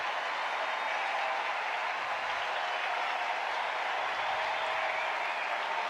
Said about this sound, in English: crowd will let her know how much they appreciate her efforts as she comes to the bench